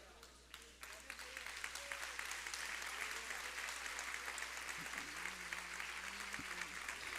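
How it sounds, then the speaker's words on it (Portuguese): A church congregation applauds together at a worship service, steady dense clapping filling the room and continuing throughout, with a few voices faintly audible beneath the hands. "Que essas palmas glorifiquem a Deus."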